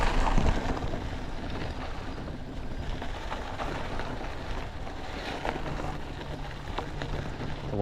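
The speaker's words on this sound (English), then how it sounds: "There goes a boat." A boat passes on turbulent water, its low motor drone blending into wind noise and lapping water, fairly faint and steady, with no talking.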